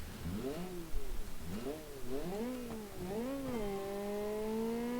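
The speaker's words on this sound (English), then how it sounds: "By sound alone, this car sounds fast but bad." A rally car engine in the racing video game Classic Rally revs up and down through several rising, falling pitch sweeps, then settles into a steady high drone, fairly close with no talking.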